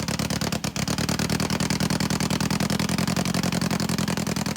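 An old Volkswagen-engined dune buggy running after revival, a steady rapid chugging idle with even pulses, close and loud, with a brief stumble near the start and no talking.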